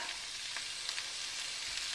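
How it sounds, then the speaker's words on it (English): Soft, steady sizzling of kale frying in a pan, a continuous hiss with faint crackles, heard up close with no talking. "You can hear it starting to sizzle."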